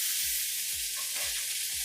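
Octopus sears in a hot cast iron pan with a loud, steady sizzle, broken by soft, regular low thumps up close.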